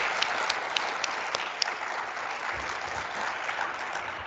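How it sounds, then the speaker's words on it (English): Applause for plenary speakers at a scientific society session, a steady, moderately distant wash of clapping with a few sharper claps standing out, continuous and without talk. "Can we give a round of applause for our plenary speakers?"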